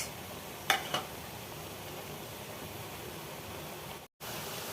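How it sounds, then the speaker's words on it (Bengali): Vegetables frying in a pan for fried rice, a steady close sizzle with a couple of brief scraping stirs early on and a momentary drop to silence near the end, no voices. "আমার সবজিগুলো ভাজা হয়ে গিয়েছে"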